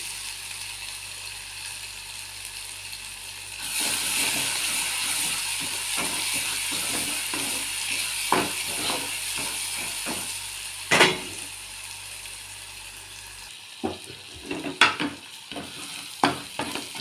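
Ground masala paste fries in a pan with asafoetida and dried red chillies, a soft background hum giving way to a stronger steady sizzle, with occasional spatula scrapes and taps near the end.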